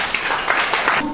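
Students in a French-language classroom give a short, dense burst of clapping, brief and close, with a faint voice mixed in.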